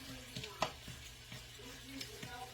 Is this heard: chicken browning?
yes